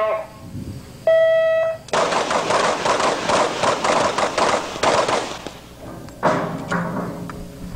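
Rapid pistol shots ring out at a bowling pin shooting match as competitors blast pins off tables, a loud, dense volley of close gunfire after a timer beep, then scattered further shots.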